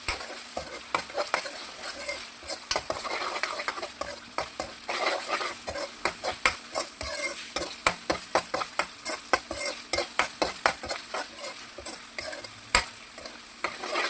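Mutton curry masala fries in ghee in a pan for an Udupi-style curry, with a steady sizzle and a quick, rhythmic run of spoon scrapes against the pan, close and unaccompanied by talk.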